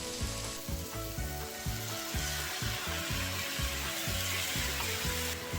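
Sauce sizzles loudly over seared tofu in a pan. The close, constant crackle runs over a repeating rhythmic beat in the background, with no speech.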